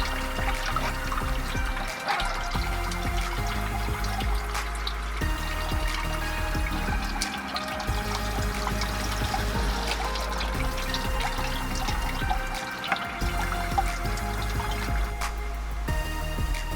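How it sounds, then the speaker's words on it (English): Hands washed in muddy, sandy water, with continuous close sloshing, trickling and dribbling splashes running steadily throughout at fairly loud level, with no voices. "I'm washing my hands with muddy water."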